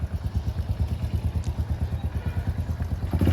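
A motorcycle's engine chugs in a steady, rapid pulsing beat as it rolls slowly up close on a rural farmstead, rising a little louder at the end.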